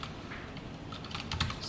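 Brief rapid clatter of computer keyboard keys as code is typed, close and fairly soft, with no talk.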